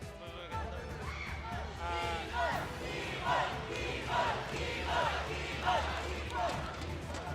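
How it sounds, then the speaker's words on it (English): A crowd at a Mobile Legends esports knockout match between DEVU and ONIC cheers and chants for the player Keyboy in rhythmic surges, with continuous talk over the noise. "The crowd is cheering for Keyboy like he's going to a grand finals matchup"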